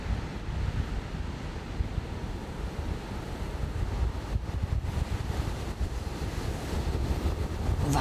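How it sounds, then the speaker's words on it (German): Ocean waves surge against the rocky coast at Cape Cross, Namibia, a continuous low roar of surf with strong wind buffeting the microphone and no voices. "Wahnsinn, die Kraft vom Wasser. Das Wasser schießt hoch, voll krass."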